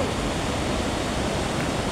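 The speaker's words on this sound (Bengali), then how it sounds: "পানির শুধু শব্দই শোনা যাচ্ছে, চারিদিকে শুধু পানির শব্দ।" Himalayan meltwater rushes into a lake in Kathmandu with a dense, unbroken roar of water, loud and steady over a brief stretch.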